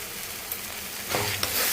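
Spices fry in oil for paneer masala as they are stirred, a soft continuous sizzle that grows louder in the second half with a couple of brief scraping bursts.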